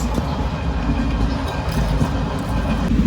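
Tutari Express passenger train running through monsoon countryside, a steady loud rumble of wheels and carriage noise with faint rhythmic clatter throughout, heard from inside an empty coach.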